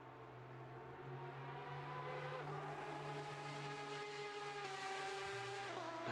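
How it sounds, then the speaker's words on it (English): A Porsche flat-six engine screams in a virtual 24-hour endurance race, a loud, sustained high-revving wail that climbs through the gears with a short drop on a shift near the end. "That screaming Porsche flat 6"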